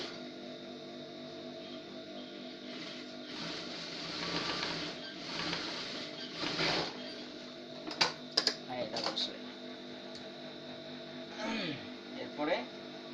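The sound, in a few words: sewing machine double stitching a salwar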